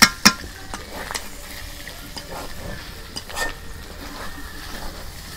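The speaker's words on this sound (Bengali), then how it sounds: "এই দেখো গরু ভুড়ি ভাজতেছি" Beef tripe fries in a pan, a low sizzle running under repeated scrapes and clinks of a stirring utensil, with a couple of sharp knocks at the start.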